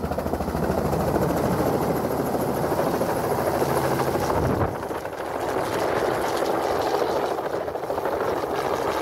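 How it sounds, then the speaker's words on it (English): A helicopter flies in carrying an elk slung beneath it during a wildlife study, its loud, steady rotor thrum and wind roar filling the whole clip without pause. "this helicopter bringing in an elk"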